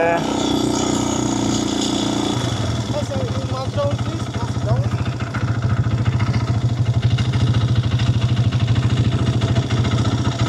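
A motorcycle engine labors at low revs in Dubai desert sand with a steady rumble and clatter, loud and close, while a voice talks briefly at the start.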